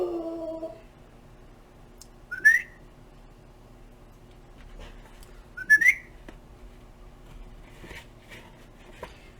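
A person gives two short, sharp rising whistles a few seconds apart as a command to a dog. A quiet indoor craft workspace surrounds them, with faint dog whimpering in the background.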